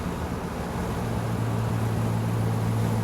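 An Aston Martin DB2/4 Mark III cruising in fourth gear, a smooth, steady low engine drone with a constant hum that grows slightly fuller, heard from inside the car, with no talking.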